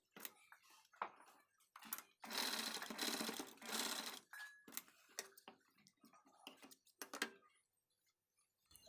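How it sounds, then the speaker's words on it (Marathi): A sewing machine stitches pleats on a Paithani saree blouse sleeve in one dense, loud burst of a couple of seconds, framed by quiet ticks and clicks of handling. "इथे एवढ्या प्लेट आपण ज्या सेट केलेल्या आहे त्या टीप टाकून घ्यायच्या"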